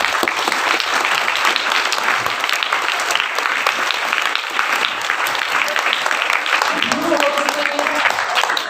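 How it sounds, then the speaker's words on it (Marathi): A school audience applauds children's Marathi choral recitation for classes five to seven, a dense, sustained wash of hand claps that holds steady throughout, with a voice starting to speak near the end. "त्यांच्यासाठी आपण सगळ्यांनी जोरात टाळ्या वाजवूया"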